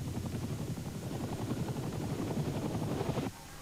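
A helicopter lands on a football pitch in Kuwait in 1991, its rotor beating in a loud, rapid chop close by before the sound drops sharply near the end.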